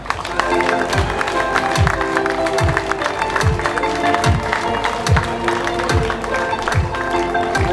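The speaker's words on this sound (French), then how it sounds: "vous pouvez l'applaudir très fort" A crowd applauds and cheers for a newly crowned champion at a firefighters' national triathlon championship prize ceremony, a dense steady patter of clapping running throughout over a rhythmic beat of background music.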